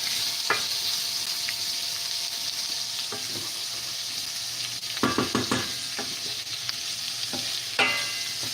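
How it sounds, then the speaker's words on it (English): Onions sizzle in a pan while chilli is cooked, a steady frying hiss broken by several sharp scrapes and clanks of a utensil stirring, close and fairly loud. "You guys can just watch the onions for a hot minute."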